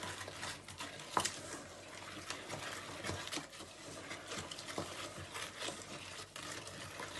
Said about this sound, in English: our raisins and our cherries. We're going to mix all those together.